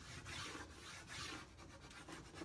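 Hand rubbing a Prima Redesign transfer onto a surface, repeated scratchy back-and-forth strokes in a steady rhythm, close and fairly quiet, with no voices.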